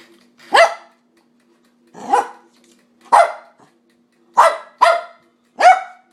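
Dog barks at a toaster oven being switched on, giving six sharp, loud, close barks in an irregular rhythm with brief pauses between them, two in quick succession near the end.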